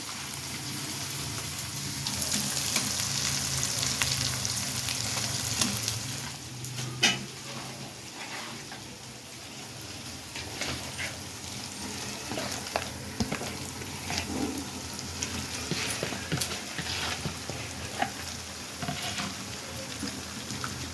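Fish pieces frying in spiced masala and oil in a pan for an Andhra-style fish pulusu, a steady close sizzle with stirring scrapes and a few sharper clatters, no talk.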